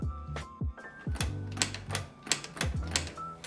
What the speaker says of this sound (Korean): 키보드를 누를 때마다 내부 기어가 작동하면서 카트리지가 좌에서 우로 이동합니다.